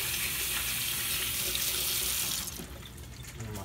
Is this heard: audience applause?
no